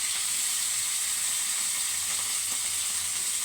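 Galunggong fish fry in hot oil with a loud, continuous bright sizzle that holds steady close up, with no voices over it.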